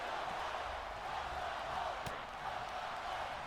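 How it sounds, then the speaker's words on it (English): Irish crowd in a Dublin arena in the WWE 2K25 wrestling video game, a steady loud roar of massed voices that sounds like singing, filling the whole clip with one brief sharp thud midway. "And listen to the Irish folks sing."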